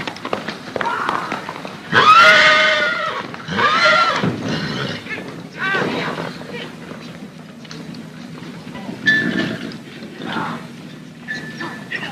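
A horse neighs loudly, followed by further whinnies and snorts, with people talking in the background throughout.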